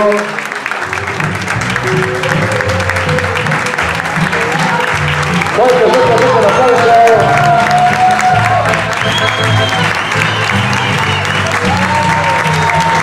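An audience at a dance performance applauds two young dancers from Paraná, loud sustained clapping with scattered cheers and whoops, while music with a low bass line plays beneath and swells partway through.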